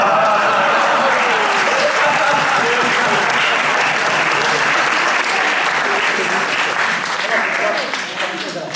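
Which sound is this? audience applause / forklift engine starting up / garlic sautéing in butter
audience applause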